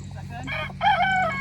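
Hens on pasture cluck in short close bursts, one louder call rising near the middle, over a low steady background hum.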